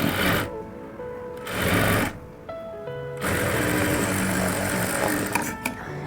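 Sewing machine stitching a half-inch seam through a blouse sleeve lining, running in several bursts of rapid mechanical whirring separated by brief pauses, close and loud.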